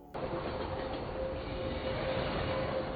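A train rolls past close by with a steady loud rumble of wheels and rail noise, a faint high squeal running through it, heard alone.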